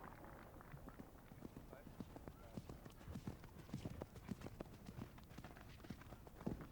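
Horse hooves galloping on a cross-country course at the 1992 Badminton Horse Trials, a fast, uneven drumming of hoofbeats heard faintly under steady background noise.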